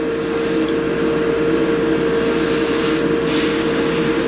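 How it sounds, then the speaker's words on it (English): An airbrush sprays paint onto rubber foam ruins terrain for Warhammer 40K and Frostgrave, making a loud, constant close hiss under a steady compressor hum, with brief dips as the trigger eases. "Airbrush is just so wonderful because it just, such a smooth, natural look to it."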